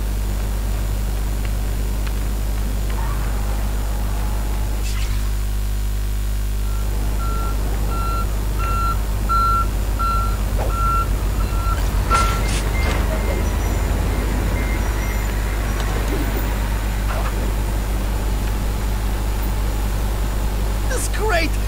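Reversing beeps from a truck in a video game, a steady regular series of beeps over a constant low engine rumble and road noise, with people talking over it.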